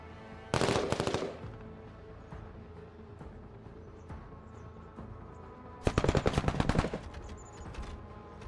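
Machine gun fire in a strategy video game rattles out in two rapid bursts of about a second each, loud against a quiet background of game ambience.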